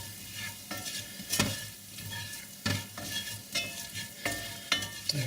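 Flour being stirred into hot oil in a frying pan for a rabbit and cider dish, soft scraping strokes repeating roughly every second over a quiet, steady sizzle.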